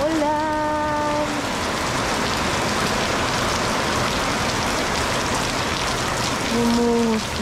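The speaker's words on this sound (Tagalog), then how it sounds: "Umuhos na ang ulan." Heavy rain pouring down in a steady, loud, dense wash of drops on surfaces, continuous throughout with no pauses.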